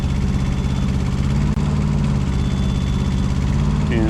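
A CMC 72HD compact tracked spider lift drones steadily as its hydraulics raise the jib. The close engine and pump hum stays constant and loud for the whole stretch, broken only by a single faint click. No speech.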